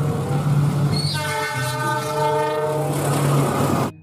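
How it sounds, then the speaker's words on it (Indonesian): A CC206 diesel locomotive rumbles past, its horn sounding in one long blast over steady engine roar and wheel noise before the sound cuts off abruptly. "Lokomotif CC206."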